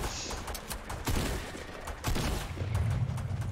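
Rapid gunfire from the video game Fortnite, with dense overlapping bursts of shots and booms that swell and recede over a few seconds, loud and continuous with no voices.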